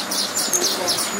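Young baya weaver chicks chirp and tweet in short, high, close calls, heard alone in a brief burst.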